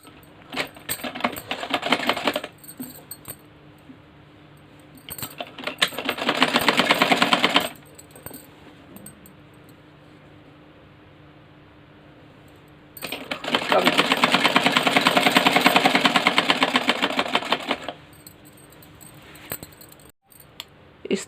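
Sewing machine stitching a petticoat, running in bursts of fast, even clatter with quiet pauses between them where someone speaks. The machine is close and moderately loud.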